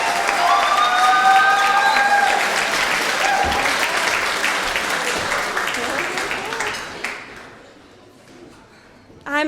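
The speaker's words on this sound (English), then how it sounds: "massive round of applause for Hayden and Astros" An audience applauds at student union election results, loud, dense clapping with whistles and cheers that gradually fades and thins to a lull before a sudden burst at the end.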